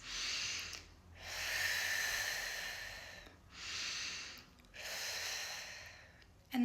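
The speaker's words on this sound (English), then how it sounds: "So take a few deep breaths." Several slow, deep breaths during a guided meditation, each a long airy inhale or exhale of several seconds separated by brief pauses, close and clear with no talking.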